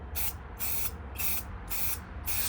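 A spray paint can misting a 2007 BMW 328i grille, five short hissing bursts in a steady rhythm, close and fairly quiet.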